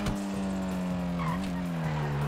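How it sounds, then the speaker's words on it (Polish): A Dinka Blista Kanjo car in a video game drones loudly while its tires squeal continuously, skidding as if struggling for grip through a turn. "opony cały czas piszczą, jakby nie miały trakcji kompletnie"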